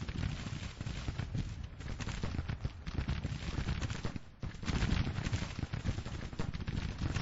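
Musket gunfire from a battle in the strategy video game Grand Tactician rolls on in continuous distant volleys, a dense rumbling crackle of many shots blending together without pause.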